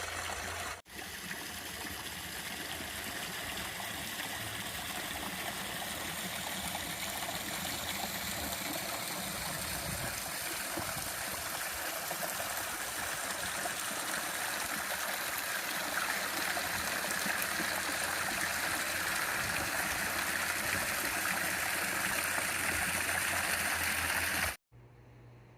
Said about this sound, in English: This is probably one of the best views to show all the falls